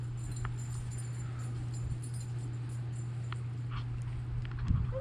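A dog whimpers softly outdoors during a snowy evening near a hot tub, faint whines rising briefly over steady background hum and ambient noise.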